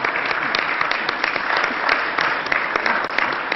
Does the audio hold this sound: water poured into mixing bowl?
no